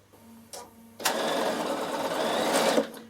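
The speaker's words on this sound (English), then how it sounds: "So I'm just going to do a seam." A Bernina sewing machine stitches a seam in boiled wool at a longer stitch length: a few brief clicks, then a steady, close mechanical whir that runs for about two seconds before stopping.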